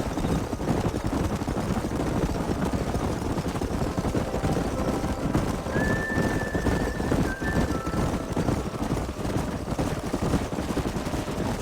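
Horses in the Red Dead Redemption video game: a dense, continuous rumble of hooves driven through a canyon, with a brief high neigh-like tone partway through, loud and unbroken.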